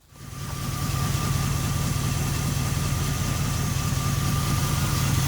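A 1983 Oldsmobile Cutlass G-body, freshly fitted with a new fuel tank, fires up and settles into a steady, close, rumbling idle that holds evenly with no talking.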